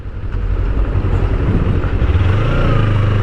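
Kawasaki Ninja 300 motorcycle engine running loud and close, a steady throbbing drone that swells as the revs rise, then shifts pitch as the bike brakes hard, continuous with no talk.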